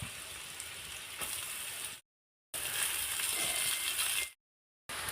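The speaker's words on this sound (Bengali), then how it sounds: "বাঁধাকপি দিয়ে দেব।" Cabbage frying in a pan together with fried potatoes gives a steady sizzling hiss in two long bursts, broken by short silent gaps, with no talking.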